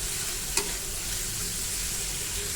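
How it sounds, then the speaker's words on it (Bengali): Chopped onion and garlic fry in a pan with a steady, close broadband sizzle, broken by a single brief clink early on, with no voices. "এই যে এবার এগুলো হচ্ছে আমি ভেজে নিব"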